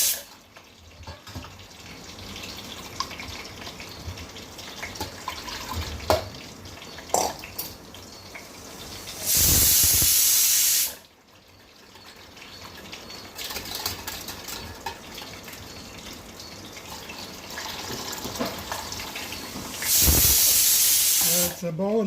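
About a liter of water pours into roughly two cups of yogurt for neer mor, making two loud, hissing, steady rushes, each lasting a couple of seconds, between quieter kitchen handling sounds.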